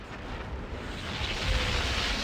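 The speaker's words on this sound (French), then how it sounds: "L'explosion nucléaire, les mecs, cadeau." Nuclear explosion cutscene from the video game Fallout: a deep, sustained roaring rumble that swells slightly over two seconds, dense and broad without sharp bangs, with no voices.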